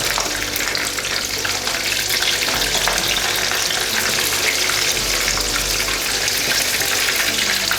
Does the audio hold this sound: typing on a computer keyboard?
no